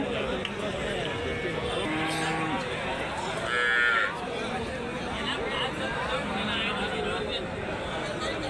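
Dairy cows with calves at the Karimangalam cattle market in Dharmapuri district, their moos sounding among a busy crowd, with people talking nearby and a steady market hubbub throughout.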